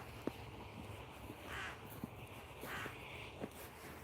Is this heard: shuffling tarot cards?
no